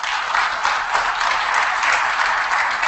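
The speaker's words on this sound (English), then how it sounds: "Ladies and gentlemen, a round of applause." A sports show audience applauds, a dense and steady wash of clapping that holds at an even level throughout.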